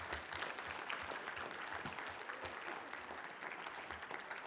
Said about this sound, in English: can we get a loud round of applause for our experts today for their time?